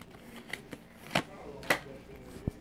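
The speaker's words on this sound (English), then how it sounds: "I'm just shuffling these up a little bit like this." Tarot cards shuffled by hand in short, crisp riffling bursts with soft sliding in between, close and moderately quiet, with a sharp tap near the end.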